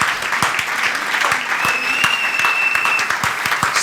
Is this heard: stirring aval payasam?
no